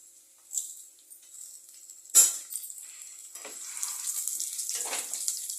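Garlic with dried and green chillies fries in oil in a pan for vada kuzhambu, a thin hissing sizzle that swells after a sharp splash and holds steady, close and moderate.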